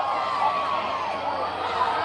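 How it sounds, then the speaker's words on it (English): Football crowd and cheerleaders at a high school game between Wayne Valley and West Essex, a continuous roar of cheering voices building before a field goal attempt, loud and steady with some distant whistle-like tones. "Cheerleaders and crowd getting loud"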